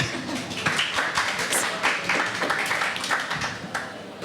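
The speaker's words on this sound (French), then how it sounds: "Là, on peut applaudir." A French TV studio audience applauds steadily throughout, a dense patter of many hands clapping at moderate volume with no voices on top.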